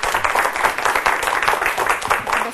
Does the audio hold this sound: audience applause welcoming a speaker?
yes